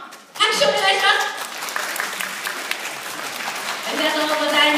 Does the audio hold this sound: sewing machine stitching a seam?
no